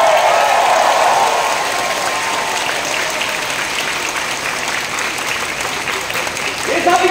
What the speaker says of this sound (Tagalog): yung palakpak niyo, pagtukoy sa Diyos, parang tunog ng buhos ng malakas na ulan